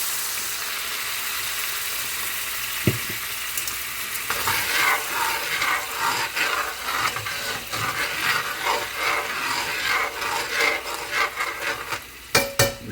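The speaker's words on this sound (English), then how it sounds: "we're going to use this to deglaze this pan here" Pan being scraped while it is deglazed with beer for carnitas, a steady hiss and sizzle with repeated rasping scrapes across the bottom, close and continuous, with a few sharp knocks near the end.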